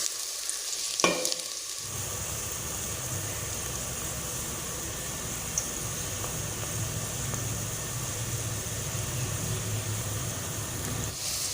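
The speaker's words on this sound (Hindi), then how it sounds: "कटे हुए प्याज घी में डाल दिए हैं। प्याज को हम लाइट ब्राउन होने तक फ्राई करेंगे।" Chopped onions sizzle and crackle steadily in hot ghee, a dense, even frying hiss that continues on its own after a brief clatter at the start.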